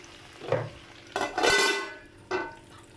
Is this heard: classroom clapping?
no